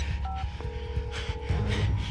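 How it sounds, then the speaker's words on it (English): A mobile phone keypad gives a few short beeping tones as a number is dialed, up close amid faint breathing and movement noise. "Get your phone. You're calling in sick today."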